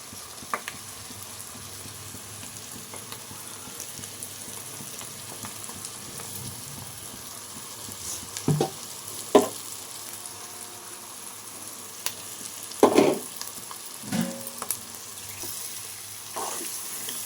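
Chicken curry with masala frying in a pan: a faint, steady low sizzle runs throughout, with a few brief scraping stirs near the end and no talk.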